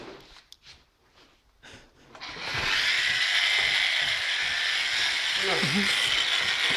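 A Bosch GWS 12-125 CIE angle grinder spins up at minimum speed after a quiet stretch with brief talk, settling into a steady, loud high-pitched whine that holds to the end.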